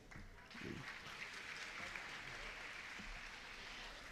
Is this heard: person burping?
no